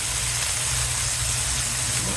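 Bacon frying on a flat griddle for smash burgers, giving a dense, continuous hiss of loud, steady sizzling with no pauses.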